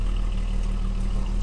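A 1978 Jaguar XJ6 barn find engine runs with no exhaust fitted, a loud, steady close-up idle with a low throbbing rumble and a light mechanical clatter throughout.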